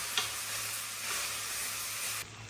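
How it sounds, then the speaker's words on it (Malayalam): Chicken masala sizzles and fries in a pan while being stirred, a steady soft hiss with a few faint scrapes, fairly quiet and without voices. "ഇനി നല്ലപോലെ ഇളക്കി മിക്സ് ചെയ്തോ."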